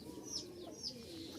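A pair of pigeons coos quietly, soft repeated calls with a couple of thin higher chirps over a faint steady background.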